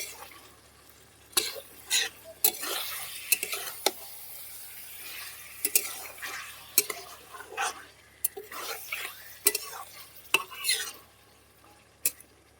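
Over a kilogram of beef being stir-fried in a pan for a beef, spinach and potato dish, with a steady background sizzle broken by sharp spatula scrapes and clinks against the metal at irregular intervals.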